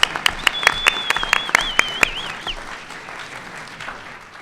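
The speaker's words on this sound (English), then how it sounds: "Let's give them a quick round of applause" Audience applause for three panelists at a talk on space tourism, a quick burst of scattered claps with a whoop over the top, fading out after about two seconds.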